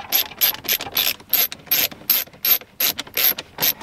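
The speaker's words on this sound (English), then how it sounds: "take 2 of your T20 screws and go ahead and secure that screen in place" A T20 screw being driven to secure a BMW F30 aftermarket screen gives a rapid series of crisp ratcheting clicks, about a dozen close, sharp bursts in quick rhythm.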